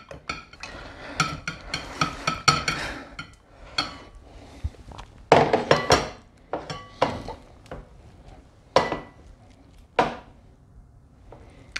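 A utensil stirs and scrapes melted chocolate in a bowl as it cools, making repeated close clinks and scraping strokes in bursts, with sharper knocks against the bowl and no talk.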